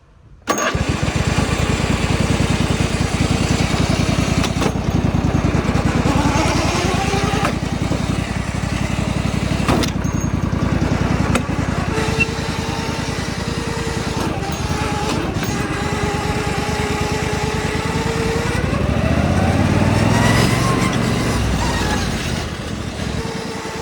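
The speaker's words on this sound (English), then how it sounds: "let's back this thing up and take it for a few more rounds on the road" Racing lawn mower swapped to a V-twin engine, driven on a road: a loud, steady engine drone throughout with rising and falling revs as it accelerates and slows, close to the listener for over twenty seconds.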